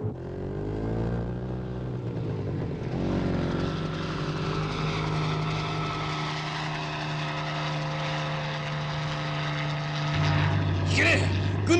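A military attack helicopter gives a low, steady mechanical engine drone with a throbbing hum, continuous and fairly loud, with voices speaking over it.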